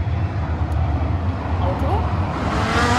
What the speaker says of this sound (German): Auto.